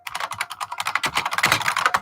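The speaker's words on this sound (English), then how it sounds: "me type Fushida gas mask in first and see if any come up" Fast, steady typing on a computer keyboard, close and clear, with dense irregular key clicks running without pause and no voices over them.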